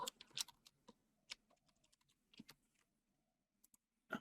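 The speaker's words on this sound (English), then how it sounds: "Talking and typing at the same time is difficult." Bursts of keyboard typing, sparse clicks and clustered keystrokes separated by pauses, close and fairly quiet, with no voices.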